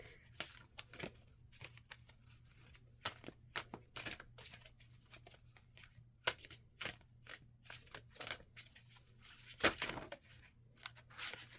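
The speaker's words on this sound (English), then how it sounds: "I would like to put these down because I find it much easier to shuffle this way." Playing cards riffle and snap in quick bursts, close and fairly quiet, with short pauses between shuffles and no talking.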